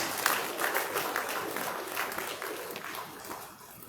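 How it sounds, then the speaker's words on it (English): Warm applause from a seated audience at a senior officers' promotion and decoration ceremony, dense clapping that swells briefly and then slowly fades over a few seconds. "let's appreciate them with the round of applause"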